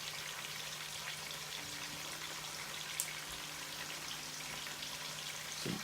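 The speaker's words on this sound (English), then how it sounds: "While our onions are cooking down" Onions fry in a pan with a steady, soft, even sizzle that continues for several seconds without a break, heard alone.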